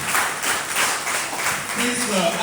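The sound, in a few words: wedding guests applauding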